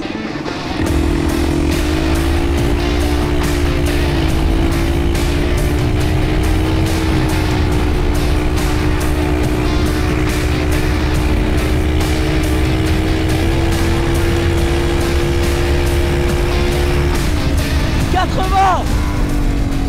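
A loud, close engine drone from a turbo-fitted stand-up scooter running flat out at top speed holds a steady, slowly rising whine for most of the run, then drops off near the end.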